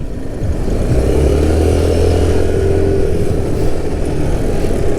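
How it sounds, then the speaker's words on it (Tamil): A KTM Duke 390 Gen 3 (2024) motorcycle is being ridden, its engine giving a steady, continuous low drone that stays fairly loud and even throughout, with no talking. "ஸோ கடுப்போட வண்டி ஓட்டி கொண்டு செல்கிறேன்"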